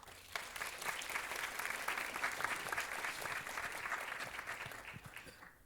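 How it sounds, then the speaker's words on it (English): An audience at a live forum event in Oslo claps, a sustained burst of applause that swells quickly, holds steady and then tapers off. "A big round of applause for all the Norwegians for the wonderful hospitality and the wonderful country we're in."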